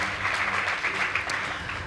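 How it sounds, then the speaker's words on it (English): High school debate competition audience applauding, a brief stretch of steady, moderately distant clapping from a crowd. "Please give them a round of applause"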